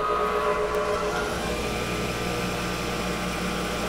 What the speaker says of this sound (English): Now we're gonna nip it on the bandsaw.